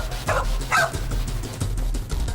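A German Shepherd police dog barks twice, loud and close, over a steady low rumble of background noise, followed by fainter knocks and movement.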